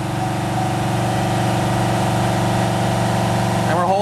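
Car engine held steady at 2800 RPM in third gear, giving a continuous, even droning hum at moderate loudness with no variation in pitch.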